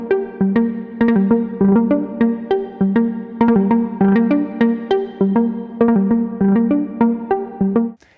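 Sequenced synth line from a Sequential Pro 3 synthesizer, a steady run of bright, plucky repeating notes with quick ratcheted retriggers scattered through the phrase, loud and alone, stopping abruptly at the end.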